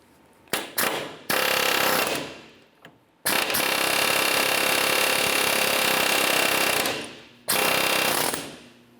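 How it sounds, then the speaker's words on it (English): A pneumatic air chisel hammers at the front lower ball joint of a 2005–2010 Chevrolet Cobalt, a couple of short bursts followed by long, loud rattling runs close up. "I'll continue on with an air chisel."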